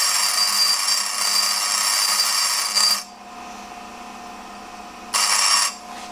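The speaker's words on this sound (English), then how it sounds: "I ground the tip off of all of them" A grinder takes the tips off hardened steel test pieces, heat-treated and air-cooled, giving a loud, steady high-pitched grinding for about three seconds, then a quieter pause, then another short burst.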